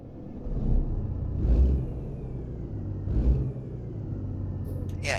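A Kenworth W900 truck engine in American Truck Simulator, stock sounds, gives a steady low diesel rumble that swells twice as the revs rise, with a faint whine above it.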